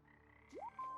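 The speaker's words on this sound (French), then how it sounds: "Les petites grenouilles." Small frogs croak in the video game Omno, a single quick rising chirp followed by a short steady tone over a quiet ambient music bed.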